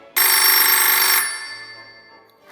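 A mobile phone ringtone rings once, loud and close, with a steady tonal electronic melody for about a second before it cuts off and a faint low hum remains.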